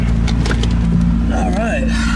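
Two supercars, a Lamborghini SV and a carbon blue Pagani Huayra, trade loud engine revs in a short rev battle, heard close and steady with excited voices talking over it.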